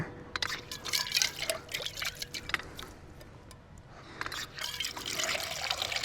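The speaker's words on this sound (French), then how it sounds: "Ce robinet il pisse." A leaking outdoor faucet runs and drips in a steady, fairly quiet trickle with uneven splashy bursts, heard up close with no talking.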